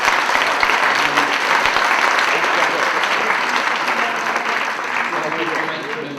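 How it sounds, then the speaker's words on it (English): A conference audience at an eTourism keynote session applauds the speakers, dense continuous clapping from a large crowd that stays loud and fades slightly toward the end. "So big applause, please, for our speakers today"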